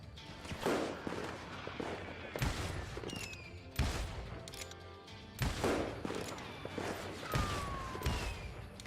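Rapid gunfire in the Western shooter Call of Juarez Gunslinger cracks out in loud, repeated volleys, with sharp shots, ricochet whines and overlapping bursts that fill the clip without a break.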